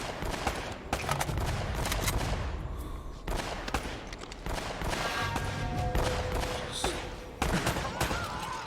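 Dense, continuous gunfire from the Uncharted video game, with rapid sharp shots crowding together throughout, loud and close, over a busy background of in-game action.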